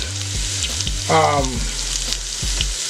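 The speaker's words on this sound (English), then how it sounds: "I'm gonna add chicken breast in here and brown and sear it off here" Chicken breast sizzles and spits as it sears in a hot pressure cooker used open as a frying pan, a steady frying hiss with a brief whine and some clanking of utensils.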